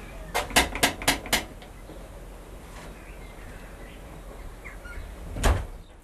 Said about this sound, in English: So you heard me knock?